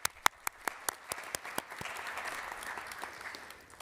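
Applause for a nursing class at a Shaffer School of Nursing and Allied Health graduation ceremony, opening with a few sharp, distinct claps that swell into steady, dense clapping from a sizable audience.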